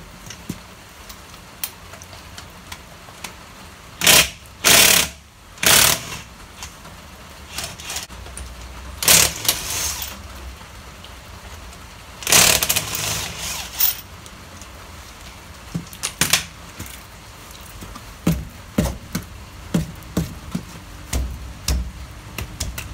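Removing a wheel from a Nissan Micra K12 with a rusted, stuck hub brings sharp close bangs and clunks, scattered metallic clicks and rattles amid quiet garage background.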